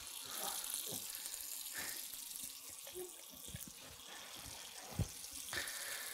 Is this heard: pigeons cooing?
no